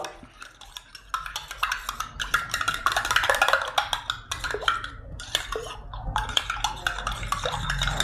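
A spoon stirs garlic cloves and a half glass of lukewarm water inside a glass, producing a steady run of quick clinks and scrapes against the sides, close and fairly loud, with no talking.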